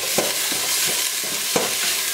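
Food frying in an oiled pan while being stirred for a low-calorie spaghetti dish: a steady, close hiss of sizzling oil broken by a couple of sharp scraping strokes, with no voices.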